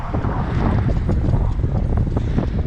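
Strong wind buffets the microphone during a bike ride across the Tappan Zee Bridge, a loud, continuous rumbling roar that fills the whole stretch with no talk over it.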